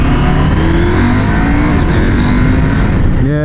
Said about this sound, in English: Stick the Akrapovich on that as well and you have yourself a really nice engine,